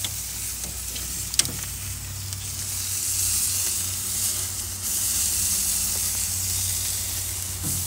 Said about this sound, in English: Get that fat sizzled up real good.